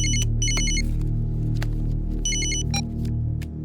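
A telephone bell rings in two loud bursts of bright repeated trills, heard close against a steady dramatic film soundtrack with sharp percussive hits, during an action scene.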